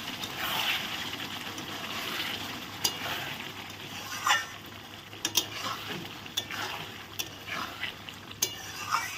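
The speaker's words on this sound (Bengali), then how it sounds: "এখন আমি ভালো করে নেড়ে দেব।" Chicken curry being stirred in a hot pan, with a steady sizzle underneath and scattered scrapes and clinks of the spoon against the pan, close and moderately loud, no voices.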